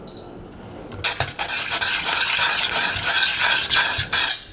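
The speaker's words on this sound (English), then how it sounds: "We need to mix this very well so all the flour is well combined with the liquid." Flour being stirred vigorously into hot liquid in a pan for choux pastry dough, a loud, continuous close-up scraping and rubbing of the utensil against the pan after a brief quiet start, with no talking.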